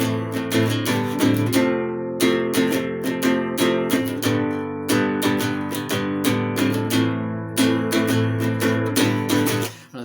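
An acoustic guitar plays the live outro of a song, with bright strummed and picked chords in a steady rhythm, close and clear, one brief pause, no voice.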